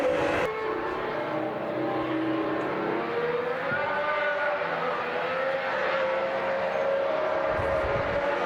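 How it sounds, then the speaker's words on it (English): A 2026 Mercedes Formula 1 car runs through the final corners at Silverstone, its engine a distant whining drone that rises and falls in pitch and echoes around the circuit, heard from far off with no talk. "This is the Mercedes coming through the last few corners at Silverstone."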